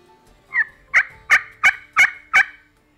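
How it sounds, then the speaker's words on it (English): A slate-style turkey call worked with a striker gives six sharp, evenly spaced yelps over about two seconds, close and clear with nothing else in the background. "Slate call and a striker."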